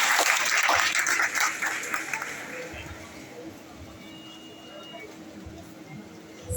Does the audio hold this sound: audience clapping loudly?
yes